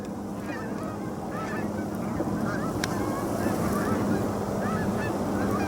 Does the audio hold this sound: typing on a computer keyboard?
no